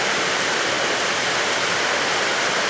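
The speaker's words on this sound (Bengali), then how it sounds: "বৃষ্টি শুরু হলো প্রচণ্ড বৃষ্টি শুরু হলো" Heavy rain pours down steadily, a loud, dense, unbroken roar of falling water with no gaps.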